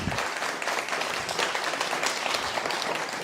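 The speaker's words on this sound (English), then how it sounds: "Let's give another applause to the 7 clients today." Crowd applause for seven graduating clients at a guide dog graduation, dense and even clapping that stays loud and unbroken from start to finish.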